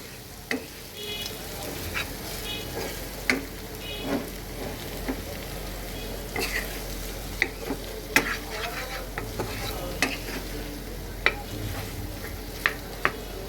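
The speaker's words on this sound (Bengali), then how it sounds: "এখন আমি দিয়ে দেব ঝোলের জন্য জল" Water is added to spiced oil for a fish curry gravy in a pan, with a steady sizzle broken by sharp, repeated spoon clinks as it is stirred.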